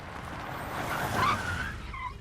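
A car driving along with engine noise and a brief tire squeal near the middle, fairly steady and moderately close, with no talk over it.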